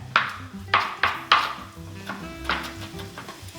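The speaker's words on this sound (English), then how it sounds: "So we're chopping this up." A kitchen knife chopping food finely on a cutting board, several distinct close knocks about half a second apart, with faint clatter between them and no talk.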